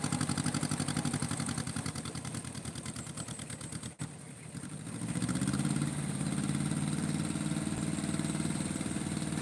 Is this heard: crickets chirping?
no